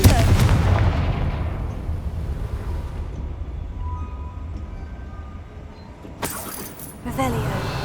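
A booming Confringo fire-blast spell in Hogwarts Legacy erupts loudly at the start and rumbles away, followed by a sharp second blast near the end.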